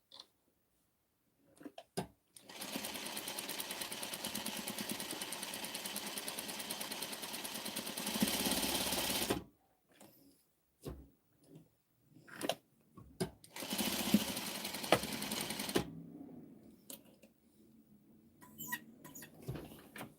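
Sewing machine stitching through fabric in two steady buzzing runs, the first about seven seconds and the second shorter, separated by quiet gaps with a few faint clicks and handling sounds.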